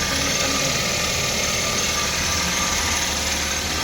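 Suzuki DA64W turbo engine idling, a steady close-up mechanical drone with a constant hum and no revving, heard alone throughout.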